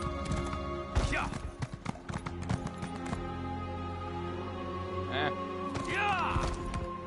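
Horse hooves clip-clop in a PS4 video game, a few scattered thuds and clatters heard faintly over sustained game music, with someone talking over parts of it.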